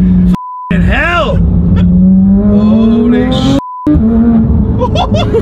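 A modified Porsche GT3 being driven hard, its deep exhaust climbing steadily in pitch as it revs, loud and close, with excited shouting over it and two short censor beeps.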